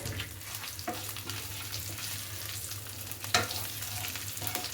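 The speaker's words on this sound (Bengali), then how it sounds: "একটু ভেজে নিলাম ভেজে নেবো ভালো করে কাঁচা গন্ধটা যতক্ষণ না যায়" Onion paste frying with cinnamon, cardamom and cloves in a pan: a steady, soft sizzle throughout, broken by occasional stirring scrapes and one sharper clack, heard close up with no talking.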